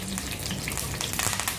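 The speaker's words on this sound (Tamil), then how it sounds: "கருவேப்பிலையையும் இந்த எண்ணெயில் போட்டு ஃப்ரை பண்ணி எடுத்து தனியாக வச்சுக்கோங்க" A bunch of curry leaves frying in hot oil in a pan, a steady close crackling sizzle with fine spitting pops throughout, no voices.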